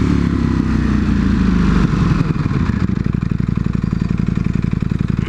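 A V4 motorcycle engine roars loud and close while riding, then drops through hard downshifts into a rapid, rattling, pulsing engine-braking burble for the last couple of seconds.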